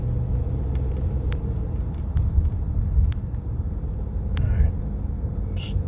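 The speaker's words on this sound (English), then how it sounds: "I gotta step on the gas now" A car on the road accelerates under cruise control, its low engine rumble and road noise building steadily and close, with a few faint clicks over the drone.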